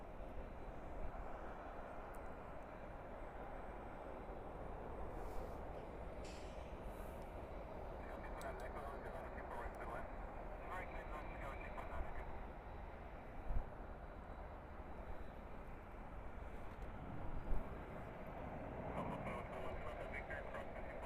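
A Delta airliner taxis at Los Angeles International Airport, heard as a faint, distant, continuous engine rumble with people talking over it.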